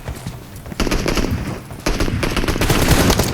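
Heavy automatic gunfire in a PUBG Mobile match, with dense rapid bursts that grow louder and fuller toward the end and keep up almost without pause.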